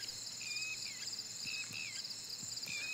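Crickets chirp at night under faint moonlight in a rural field area, a steady high-pitched trilling that fills the background, with a few brief whistling calls from a lone bird breaking through.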